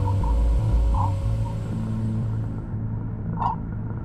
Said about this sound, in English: This is the sound of the solar wind as it abruptly slows down from the pressure of interstellar gases.